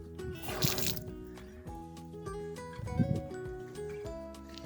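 Water running from an outdoor tap fed by a home pump station, heard from a distance as soft splashing and dripping with gurgling bursts over background music.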